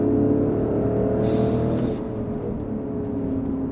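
A Porsche Cayenne Turbo GT E-Hybrid with the GT package accelerating on a circuit, a loud sustained engine drone and whir heard from inside, steady and unbroken throughout.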